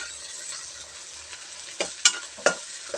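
Thai holy basil stir-fry (pad kaphrao) tossed in a hot pan, a steady low sizzle broken by several sharp scraping clatters of a spatula against the pan, close by with no talking.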